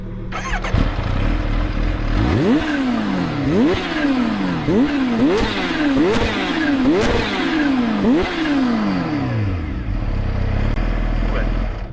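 A 4-cylinder 1000cc motorcycle with a noisy exhaust revving hard toward a 14,000 RPM redline, loud and close, with repeated rising and falling blips after an idle, and a voice talking over it.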